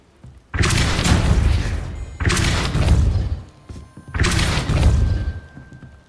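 Repeated Depulso spell casts in Hogwarts Legacy burst out as three heavy, loud whooshing blasts, each lasting over a second and separated by brief pauses.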